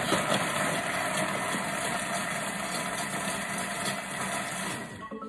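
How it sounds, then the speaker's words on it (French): Food processor chopping at speed 5 for about five seconds, a steady loud motor whir with grinding blade noise running continuously, then cutting off at the end. "on va, hop, hacher 5 secondes, vitesse 5"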